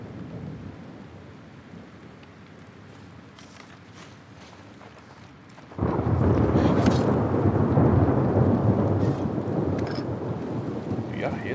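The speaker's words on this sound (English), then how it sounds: "Do y'all hear this thunder right now?" Thunderstorm in The Last of Us Part 2, rain and rumbling thunder building into a loud sustained roar of heavy rain halfway through, with scattered crackles and footsteps.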